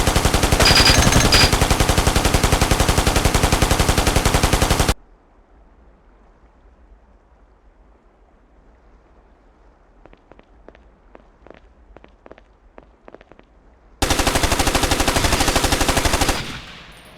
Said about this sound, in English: Press the fire key to fire the machine gun.